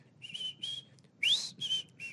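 A person whistles a thin, breathy tone in several short bursts with brief gaps, one note sliding upward, close and fairly quiet.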